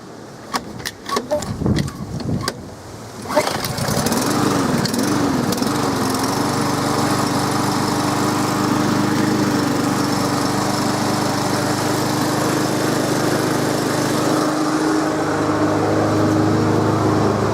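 Small petrol generator engine, not used for about two months, being cold-started with the choke on: a few pulls and sputters, then it catches and runs with a steady, loud, continuous drone.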